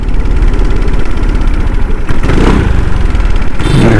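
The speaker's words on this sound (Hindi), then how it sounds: "देखिए पूरा एक्सीलेटर दबा के रखा हूँ, एक एक बार करके ले रहा है" Motorcycle engine held at full throttle while running out of fuel, a loud close-up sputtering rumble with uneven pulsing firing that briefly catches and surges before faltering.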